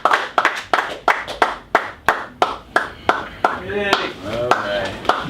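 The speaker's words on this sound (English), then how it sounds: "Just clap it up" A small group claps hands in sharp, separate, fairly rhythmic strikes, close and loud, roughly two to three per second, with people talking and laughing over the later claps.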